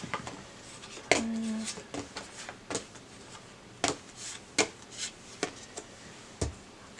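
Soft crisp tarot card riffles and taps come in short bursts, with a brief hum partway through and quiet pauses between the shuffles.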